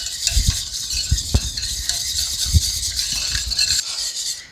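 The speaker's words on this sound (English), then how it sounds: "So I'm going to whisk this together." Honey garlic sauce whisked in a bowl, a rapid scraping and tapping of the whisk against the sides in a short close burst, with no voices.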